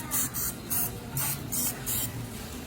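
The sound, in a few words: cooking spray on corn dog maker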